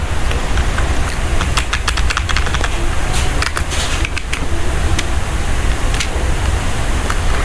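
Keys tap on a computer keyboard while working in a Linux terminal, a quick irregular run of clicks and a few separate presses, close and clear over a constant loud humming background.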